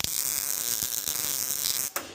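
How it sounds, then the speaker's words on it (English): A quick spot weld on mild steel welding wire, done on a 1968 custom VW: a steady, loud crackling buzz of the welding arc lasting about two seconds, cutting off abruptly. "I'm gonna put one quick spot on this."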